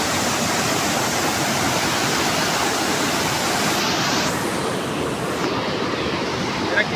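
Water rushes beneath a bridge in a steady, loud, continuous roar like surf or a waterfall, with wind buffeting the microphone and no voices.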